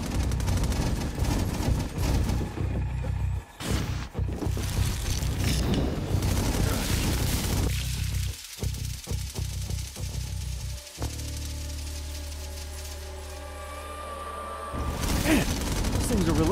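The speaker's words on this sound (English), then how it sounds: "Automatic turrets is so cheating." Automatic turrets fire in the inFAMOUS Second Son video game: dense, loud bursts of rapid gunfire and booms layered with game effects, breaking off into a quieter humming stretch before the firing resumes.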